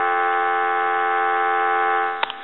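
Steady dial tone from a Uniden EXS9966 two-line 900 MHz cordless telephone, a continuous loud hum held for over two seconds, followed by a couple of faint clicks as it fades slightly.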